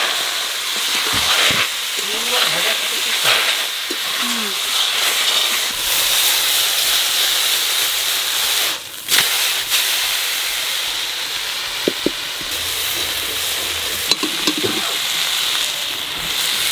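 Prawns rubbed with salt and turmeric fry in a pan of hot oil, a loud, steady hiss and sizzle that runs throughout with occasional louder spits and crackles.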